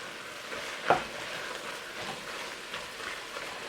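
Onions with thyme, bay leaf and garlic sizzle steadily in a pot for French onion soup, with one sharp scrape of a stirring utensil early on and a few softer ones later, close and with no talk.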